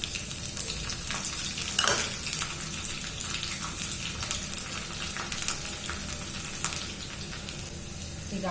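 Mustard seeds and garlic fry in hot oil in a pan for a pickle, a steady close hiss of sizzling with crackling pops and occasional scrapes of stirring throughout.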